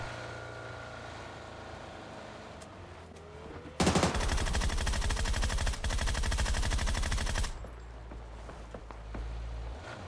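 Loud sustained automatic gunfire in PUBG, a fast rattling burst lasting several seconds near the middle, framed by quieter engine-like rumble and ambient game noise before and after.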